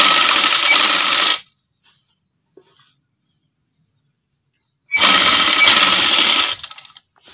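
A sewing machine stitches lace onto a dupatta in two fast, loud whirring bursts, each about a second and a half long, separated by several seconds of near silence with a couple of faint clicks.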